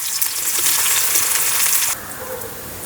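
Chopped small onions hitting hot oil with fenugreek seeds in a village kitchen, a loud, steady bright sizzle that drops abruptly to a softer fry near the end.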